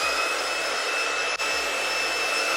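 A hair dryer on its cold setting blows a steady, close airflow roar with no speech over it.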